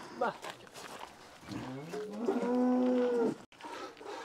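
A large dairy cow gives a long, loud, close moo at a cattle sale, with people talking around it before and after.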